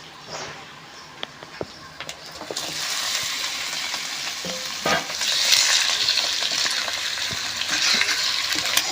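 Chicken frying with onion, ginger and masala in a home Diwali kitchen, a steady loud sizzle that swells after a few seconds, with occasional stirring scrapes and clinks.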